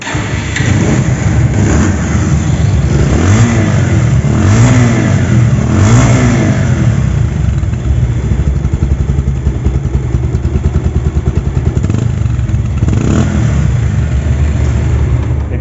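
Bajaj Pulsar double-disc motorcycle engine running close up, revving loudly and steadily with a rough, clattering idle between throttle blips, sustained throughout.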